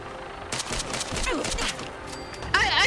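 Gunners fire on the player in Fallout 4 with rapid bursts of automatic gunfire that start after a short pause and return louder at the end, mixed with excited talk.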